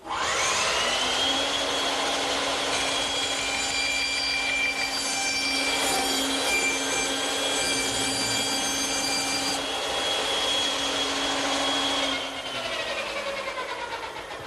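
A saw cuts a scrap-plywood blank pinned to a circle-cutting radius jig, giving a steady, loud motor whine with a high tonal band for about twelve seconds, then spinning down with a lower rumble at the end.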